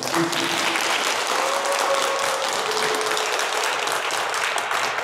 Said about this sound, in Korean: 감사의 박수를 드리면서 모두 마치겠습니다